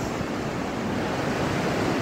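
Water washing against a river shore near Teknaf, on the Myanmar border, makes a steady, dense rushing wash that continues without a break for two seconds, with no voices.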